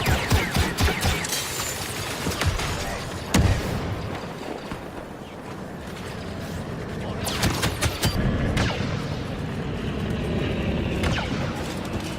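Blaster-style gunfire from a pistol and a mounted turret in Star Wars Battlefront 2, with repeated sharp shots and bursts over a dense battle din, a loud blast near the third second, and someone talking intermittently.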